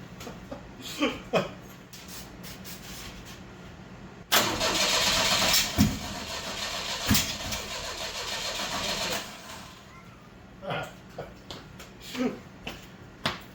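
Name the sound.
car engine cranking and starting with firing order off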